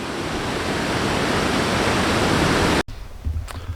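Copper Falls waterfall roaring steadily through a narrow gorge, a loud broadband rush that cuts out abruptly near the end, leaving quieter flowing water.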